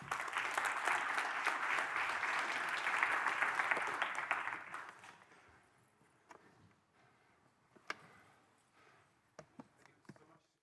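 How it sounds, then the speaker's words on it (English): Audience applause after a conference keynote talk, a dense wash of clapping for about five seconds that fades to scattered claps and murmurs. "Another quick round of applause, I think, for Radek Sienkiewicz"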